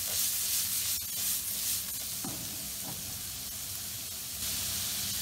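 Chopped onion frying in about three tablespoons of vegetable oil in a pan over medium heat, a loud, continuous bright sizzle with occasional stirring scrapes and small pops, no voices.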